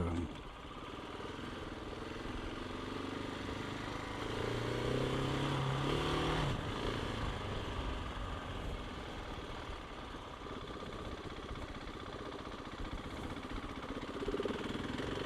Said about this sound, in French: Le moteur est souple, il reprend bien